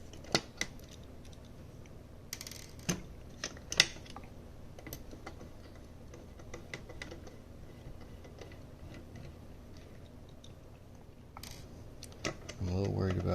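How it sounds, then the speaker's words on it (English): Small clicks and ticks of a screwdriver working screws out of a Guitar Hero World Tour Wii guitar controller, scattered sharp taps at close range over quiet background hiss, with a louder stretch near the end. "just get these screws out and then move it back in the frame"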